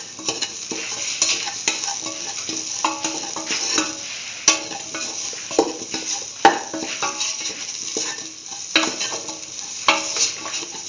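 A tomato, beetroot and coconut stew is stirred after salt goes in. The spoon scrapes and knocks the pot in an uneven rhythm over a soft bubbling sizzle, close up, with no speech.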